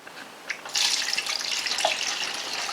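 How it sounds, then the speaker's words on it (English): Diesel fuel drains from the bottom of a Duramax LLY fuel filter into a metal drain tray, making a steady close trickling, splashing stream with no talking. "And I'm just letting all the fuel out."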